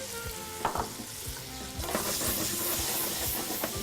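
Mushrooms and onions frying in butter and olive oil over high heat, a loud close sizzle that swells into a hissing fry, with quick stirring scrapes throughout.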